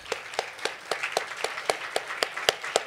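Audience applause closes a Spanish-language talk about the limits women face in their professional careers. A small group claps in a sparse, fairly even rhythm, moderately close, with no voices over it.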